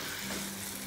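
Chopped onion hits a hot pan and sizzles, a brief, continuous, close hiss with no pauses.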